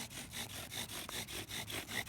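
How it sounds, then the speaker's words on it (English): Bow drill spindle spinning against a wooden fireboard with long strokes, a rhythmic rasping friction that swells and fades with each back-and-forth pass, about eight even strokes, close and faint. "So see how I'm getting nice long strokes on the bow. You can still hear a little bit of wobble on the spindle."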